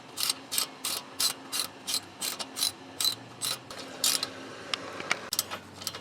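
A hand ratchet tightens a brake caliper bolt on a VW Jetta during a front brake pad job, giving a series of crisp, close clicking bursts in a quick, uneven rhythm with short pauses between strokes.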